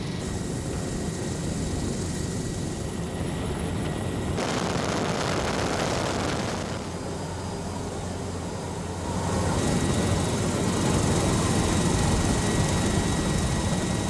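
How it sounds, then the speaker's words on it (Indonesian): An Indonesian Air Force Caracal military helicopter drones with a steady, broad rotor and engine roar that holds at constant loudness and swells slightly toward the end. No voices are heard. "Dua helikopter Karakal milik TNI AU dikerahkan untuk mendistribusikan bantuan ke Kabupaten Aceh Tengah dan Kabupaten Bener Meriah."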